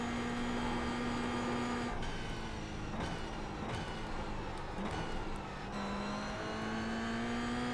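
A Toyota GR86 race car engine in iRacing holds a steady, buzzing high drone, broken by several sharp gear-shift drops and climbs in pitch, with no talking.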